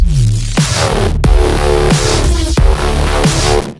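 A thick, buzzing Serum synth bass plays a series of loud, distorted notes with sharp plucky attacks, repeating in a steady rhythm.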